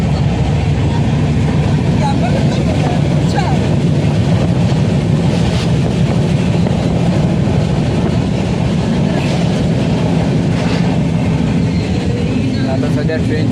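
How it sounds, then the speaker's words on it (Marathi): Continuous loud rumble and rattle of a train running, heard from on board a carriage, a steady roar with no clear breaks, voices faint beneath it. "आता सध्या ट्रेन चालू आहे."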